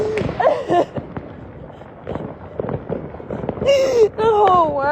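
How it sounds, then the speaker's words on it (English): Fireworks popping across a city at night in scattered bangs and crackles, with wailing and excited shouting voices over the explosions. "The whole city is popping fireworks right now."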